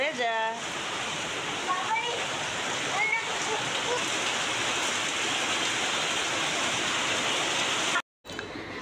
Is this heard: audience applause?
no